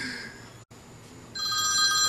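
A telephone ringtone rings in bright electronic bursts, breaking off for an instant and then returning louder and fuller, with no voices.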